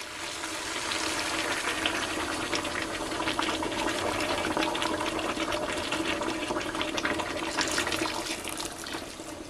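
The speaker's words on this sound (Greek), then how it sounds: "θα προσθέσουμε νερό" Hot water pours steadily into a cooking pot of potatoes, a continuous rushing, splashing stream at moderate distance with no talk.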